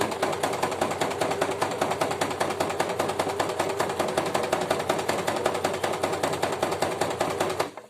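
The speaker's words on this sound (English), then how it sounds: "Do a little back stitch and then sew straight down." A sewing machine runs steadily, stitching fabric for an extra-large scrunchie. Its rapid, even needle chatter is close and continuous for several seconds, then stops abruptly, with no voices.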